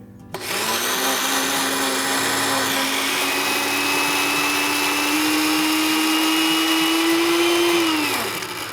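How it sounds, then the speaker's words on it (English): A blender motor whirs loudly and steadily for several seconds while mixing homemade mustard with vinegar, beer and honey, its pitch rising slightly before spinning down at the end. "I'll have this in the blender"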